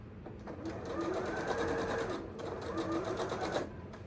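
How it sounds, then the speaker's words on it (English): A sewing machine stitches a fabric book tote bag along a seam, running in a steady, continuous whir for about four seconds with a brief dip in the middle, close and fairly loud with no talking. "I'm just going to sew it 1/8 of an inch right here."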